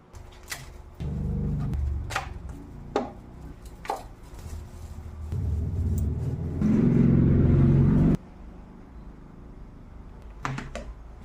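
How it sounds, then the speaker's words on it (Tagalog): Onion being chopped on a board for sautéing, with repeated knife taps through a run of steady low rumbling background noise; no talk. "I-chop lang natin ang sibuyas na panggisa"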